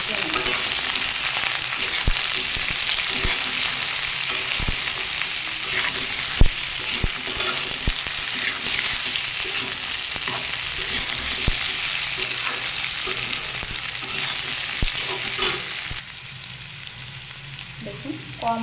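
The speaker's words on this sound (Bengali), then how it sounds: "আমি এই যে তিল বাটা এবং মিষ্টি কুমড়া দেওয়ার পরে কিছু সময় ভেজে নিয়েছি" Frying sizzle of sesame paste with pumpkin and taro stolons in a pan, a steady loud crackle with scattered sharp ticks of stirring throughout, easing slightly near the end.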